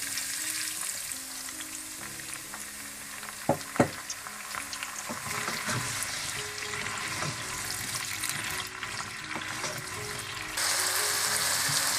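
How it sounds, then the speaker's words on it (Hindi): Chicken stock is poured into chicken frying in a pan for chilli chicken, a constant close sizzle with a couple of sharp knocks partway through and a louder hiss near the end, no voices. "और इसी चिकन में आप हाफ कप चिकन स्टॉक डाल दें"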